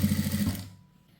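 A sewing machine running fast, stitching canvas onto the main blouse fabric along the edge, with a close steady mechanical whir that stops after about half a second and leaves quiet.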